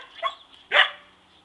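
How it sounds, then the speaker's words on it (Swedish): A small, spirited female dog gives two short, sharp barks close by, the second louder, with a brief pause between them and quiet in the background. "Eller så skäller man."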